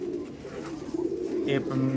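Madrasi pigeons bred as tournament-quality homing fliers coo softly and continuously, a low murmuring rumble close by amid light background noise and a brief chirp.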